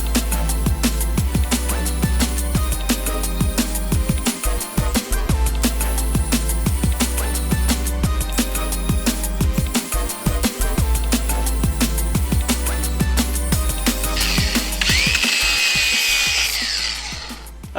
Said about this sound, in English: I'm just going to do a quick light pass over the top, hence why I've got a flappy disc on